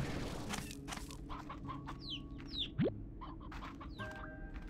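Chicken clucking in the video game Slime Rancher 2 comes through as several faint, scattered clucks and squawks with one sharp rising call, all low in level against soft game background noise.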